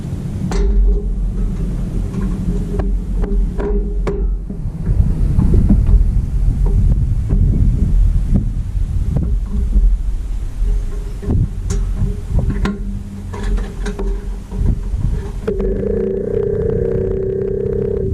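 A rescued 1955 GMC fire truck engine running: a steady, loud, low throbbing rumble that continues for the whole stretch, with a few sharp knocks over it and a slight change in tone near the end.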